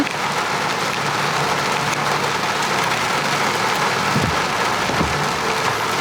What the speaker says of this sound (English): And now I get to drive home in the rain